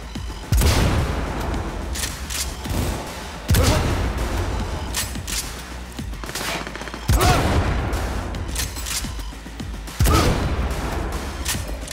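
Gunfire in the video game Cyberpunk 2077: four loud, booming shots spaced a few seconds apart, each with a sharp attack and a long rumbling decay.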